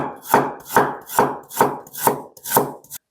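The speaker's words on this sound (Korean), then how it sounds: "생강채 좀 썰을게." Ginger being cut into thin strips with a knife on a board for nabak kimchi, six firm, evenly spaced chops about half a second apart, close and alone.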